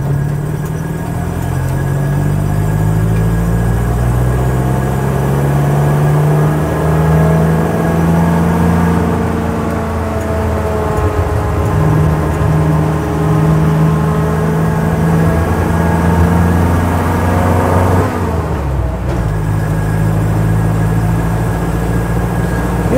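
A 1958 Ford Thames 400E bakery van drives with a steady, loud mid-pitched engine drone that rises and falls through gear changes, with a brief dip near the end.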